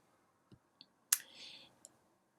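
Buttons pressed on a graphing calculator, a few quiet separate clicks and taps over about two seconds with one slightly louder press in the middle, close and soft against a quiet room.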